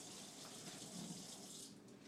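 Water running from a sink faucet, a steady, soft gush and hiss of flowing water that continues evenly without talk, easing slightly at the end.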